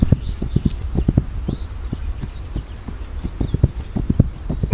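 Horse hooves clip-clop in an uneven walking rhythm, close and fairly loud, a run of sharp knocks through the whole stretch in a game setting.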